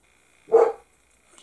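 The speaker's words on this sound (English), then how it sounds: "There's my dog barking to somebody outside." A dog barks once at someone outside, a single short muffled bark heard from another room, otherwise quiet indoors.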